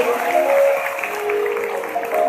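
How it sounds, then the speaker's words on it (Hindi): An audience claps for two families at a religious storytelling gathering, a dense, steady wash of applause filling the whole moment. "तो एक बार जोरदार तालियां दोनों परिवारों के लिए"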